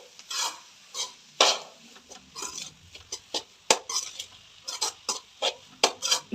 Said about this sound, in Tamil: எல்லாத்தையும் நல்லா மிக்ஸ் பண்ணிடுவோம்